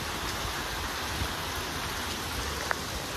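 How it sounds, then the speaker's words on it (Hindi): Heavy rain pouring down under dark clouds, a dense, steady wash of hiss with occasional sharper drops and drips, loud and constant throughout with no voices. "बट अभी ये बारिश का कुछ नहीं पता है"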